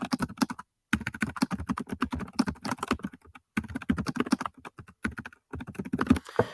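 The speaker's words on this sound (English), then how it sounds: "So you just type some words." Computer keyboard typing in short bursts of rapid clicks separated by brief pauses, close and fairly quiet, with no other sounds.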